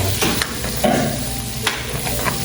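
Spicy pork adobo being stirred in butter in a pan, a loud close sizzle broken by scraping utensil strokes and a few knocks against the pan.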